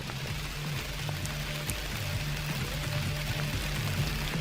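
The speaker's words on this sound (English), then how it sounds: "Oh, you might be able to hear this rain." Heavy rain pours outside a cabin, a steady dense wash of falling water with a constant low rumble running evenly throughout, close and fairly loud with no voices.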